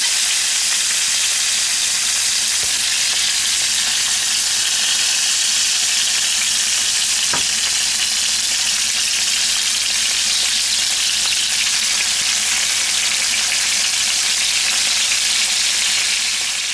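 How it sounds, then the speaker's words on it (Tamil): Fish sizzles steadily in hot oil for a fish stew, a dense, continuous frying hiss that stays close and even throughout, with no voices. "இப்போ இந்த மீன் மீனை வந்து பொறிக்க போகிறோம்"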